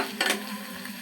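Onions frying in a pot for a fish and vegetable curry, a close steady sizzle with a brief burst of stirring scrape near the start.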